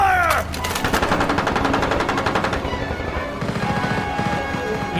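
Rapid machine-gun bursts and scattered gunshots from a Fallout audio drama firefight, loud and continuous, with crashes mixed in and no speech.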